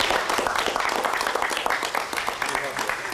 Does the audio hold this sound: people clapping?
yes